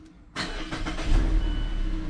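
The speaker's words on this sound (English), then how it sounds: "Yeah, I'm gonna start the vehicle." A 2016 Mazda 6 engine cranks and catches abruptly after a quiet moment, then settles into a steady, close idle rumble with no talk over it.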